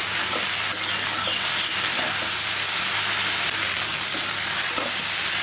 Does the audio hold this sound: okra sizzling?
yes